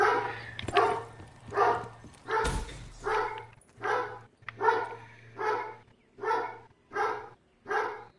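A dog barks nine times in an even, repeating rhythm, each bark loud and close, with a steady electronic hum running underneath.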